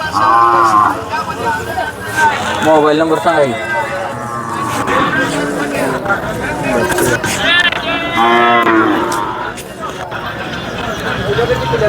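Bulls lowing at the Sangola bull market in Maharashtra, with several drawn-out calls rising over constant loud crowd chatter and people talking throughout.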